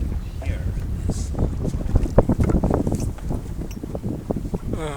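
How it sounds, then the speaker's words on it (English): Steady wind rushing over a sailboat under sail on sea trials, a constant low roar with gusty buffeting of the microphone, while people talk intermittently over it. "sound of the wind. Power of the wind, power of the wind."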